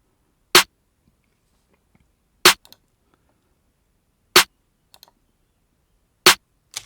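A solo snare drum processed with the Camel Crusher Annihilate distortion preset at a very low mix in a beat production. Four crisp, evenly spaced hits ring out alone, with faint ghost clicks between some of them.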